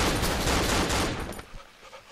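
Rapid, dense bursts of gunfire from the horror video game Cry of Fear, loud and close, trailing off after about a second and a half.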